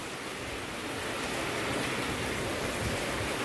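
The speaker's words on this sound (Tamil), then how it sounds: "நேற்று பேய ஆரம்பித்த மழைங்க இன்னமும் ஊற்றிக்கிட்டு தான் இருக்குது" Heavy rain pouring steadily onto a balcony: a dense, even hiss of downpour that fills the whole stretch at moderate loudness, with no talking.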